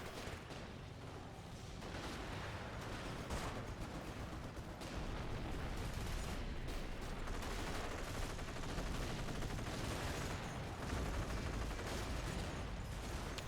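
Quad machine gun fire from the Company of Heroes video game, a dense continuous battle din of rapid gunfire and blasts running loud and unbroken throughout.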